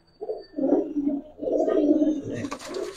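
Giribaz pigeons coo close by in several soft, throaty rolling phrases, ending with a brief rustle of wings or movement.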